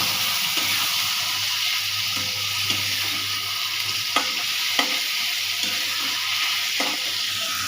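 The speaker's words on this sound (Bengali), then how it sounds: "এখন একটু কষা হবে" Chickpeas sautéing in a pan give a steady, close sizzle, with occasional soft clicks and scrapes of stirring over the frying hiss.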